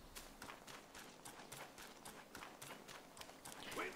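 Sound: horse noise from a video game

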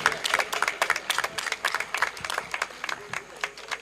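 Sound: audience applauding the winners

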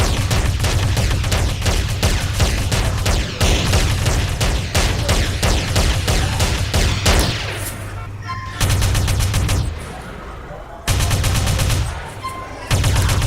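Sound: gunfire and explosions in the video game GTA

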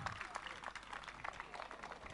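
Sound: audience applause for a family at karaoke night

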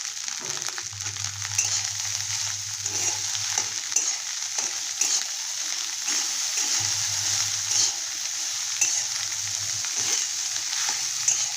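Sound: leftover rice being fried in a pan

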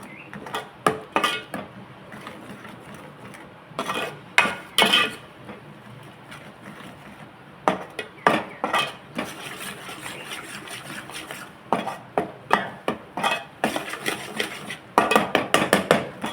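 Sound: stirring ground spice paste frying in oil in pan

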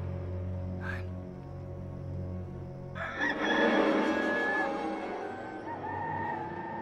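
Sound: rooster crowing

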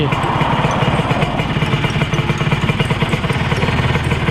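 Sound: Kawasaki 150 motorcycle engine starting and idling

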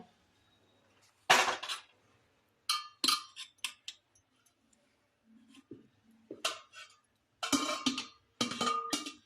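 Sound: taking the pot of cooked dal out of a cooker

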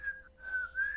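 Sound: whistle imitated from the film Mac and Me

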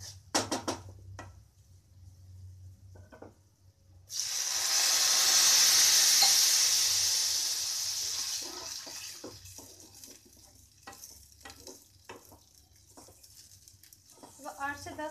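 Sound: milk poured into roasted vermicelli in hot pan

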